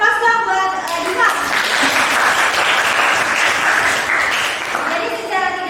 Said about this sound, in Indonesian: Aplaus dong buat Diva.